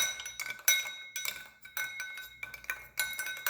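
A metal spoon clinks repeatedly against a glass while stirring sugar into cold brew coffee, a bright irregular rhythm of close, moderately loud taps with short pauses between bursts.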